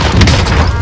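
A double-barrel shotgun fires in a first-person shooter, a loud, close, booming blast that fills the short moment with a heavy low thud and crackling top end, game action noise around it.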